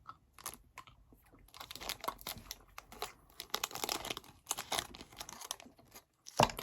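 Watermelon Airheads candy being unwrapped and eaten, close up, with irregular crinkling wrapper noise and tearing, then crunchy bites and chewing, ending in a sharp rustle.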